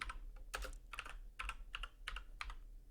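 Quick bursts of key presses on a computer keyboard, about nine crisp clicks in short clusters, close and clear with no talk.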